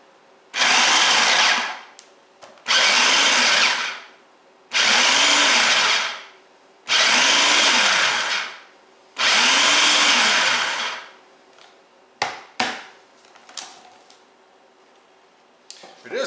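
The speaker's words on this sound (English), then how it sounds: "Then I'm going to pulse the machine like 5 times just to break up the butter." Food processor pulsing to cut butter into flour for drop biscuits: five loud, harsh whirring bursts of about a second each with short pauses between, followed by faint clatter and handling noise.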